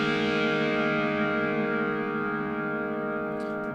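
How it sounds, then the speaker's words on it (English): A single lush synth chord rings out, sustained and heavily effected with a warbling, reverberant texture, slowly fading near the end. "I have this kind of chord stab"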